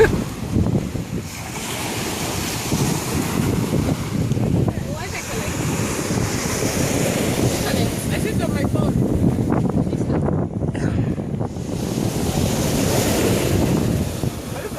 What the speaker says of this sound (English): Currently at the beach.